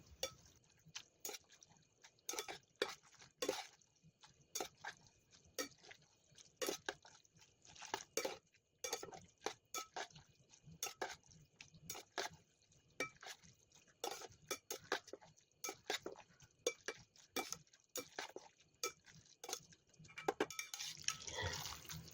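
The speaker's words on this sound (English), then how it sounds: "if you keep mixing, that sauce gets thicker" Korean instant noodle sauce being mixed in a bowl: quiet, irregular clicks and taps of utensil against the bowl with faint wet stirring, close and steady throughout with no talking.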